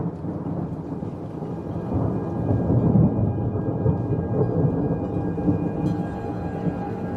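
Low rolling thunder rumbling in the distance, swelling midway, over a steady hiss of rain; no voices.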